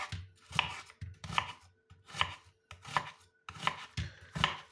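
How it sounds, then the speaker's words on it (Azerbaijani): Onion being finely chopped with a knife on a board, for a tomato-egg dish: clustered rapid blade strikes in five even bursts with short gaps between, close and crisp, no talking. "Bax belə xırda-xırda doğrayırıq."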